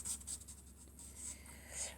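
Pencil or marker darkening an outline on paper, a quiet close-up scratchy scribble in short repeated strokes.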